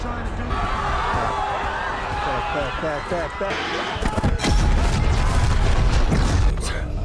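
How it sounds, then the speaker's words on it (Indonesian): Voices speak over background noise, then a plane crashes nearby with a loud booming explosion, crashing debris and rumbling aftermath. "sebuah pesawat jatuh di dekat mereka dan menyebabkan ledakan besar."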